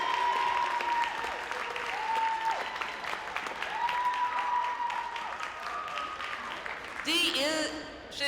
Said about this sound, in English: And I just want to give a round of applause for Dee.